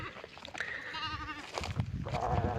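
Sheep aged two to six teeth bleat at a livestock sale, with several overlapping, wavering calls close by over a steady background murmur of the crowded market.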